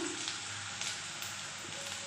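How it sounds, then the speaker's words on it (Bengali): Ginger, garlic and chili frying in oil, a brief steady crackling sizzle, moderately quiet and close, with no voices. "আদা আর লঙ্কা রসুনটা যতক্ষণ না ভালোভাবে ভাজা হচ্ছে ততক্ষণ ওটাকে ভাজতে থাকবে"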